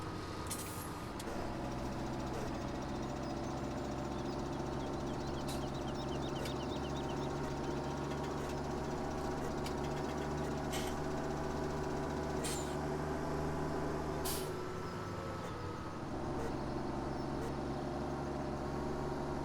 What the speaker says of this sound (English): 250 horsepower tractor here, so it doesn't really look that big, though